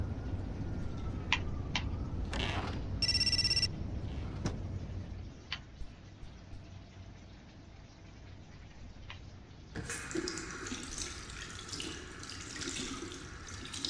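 A tap runs in the video game Indigo Prophecy: water gushes into a sink in the last few seconds after quieter game ambience with scattered ticks and clicks.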